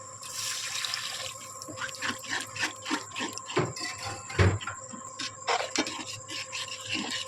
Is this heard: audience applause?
no